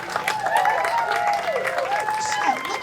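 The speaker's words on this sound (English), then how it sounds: "How about a round of applause for Chet, everybody?" Audience applause at a live lumberjack show, a steady wash of clapping from a crowd lasting throughout, with raised voices and a whistling tone mixed in.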